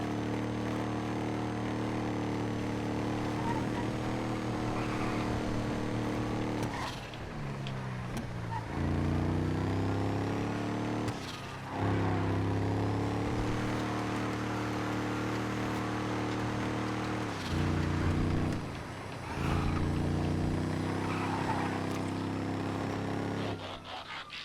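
Game vehicles in GTA FiveM pass one another, a steady loud engine drone with harmonic hum that dips and swells several times as vehicles go by, continuous throughout with no talk.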